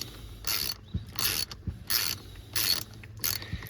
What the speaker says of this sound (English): we'll stick on our ratchet and break it free